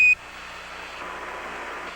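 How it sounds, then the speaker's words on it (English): Apollo 11 lunar module 1201 program alarm, a short sharp electronic beep tone at the very start, followed by a steady hiss of radio static. "Roger, 1201 alarm."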